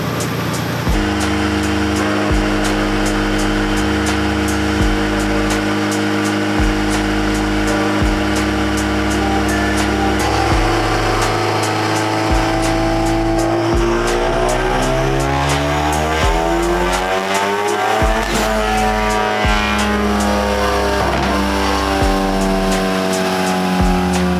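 A 600 HP built-motor Audi S3 with a big turbo revs on a dyno, its engine roaring loud and continuous, climbing through rising pitch sweeps in repeated pulls with a sustained high-rpm wail near the end.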